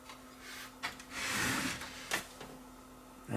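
Tape transport of an Aiwa M110 multi-system VCR running with the pinch roller turning, a faint steady motor whir with a thin hum and a few soft mechanical clicks and rubbing swells.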